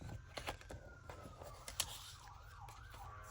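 A distant ambulance siren wails in rising and falling sweeps beyond a main road, faint against low background rumble and scattered clicks.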